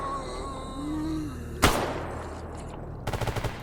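A gun fired in the shooter game Escape From Pripyat gives a sharp single crack, then a short burst of rapid shots near the end, loud and close over a quieter ambient backdrop.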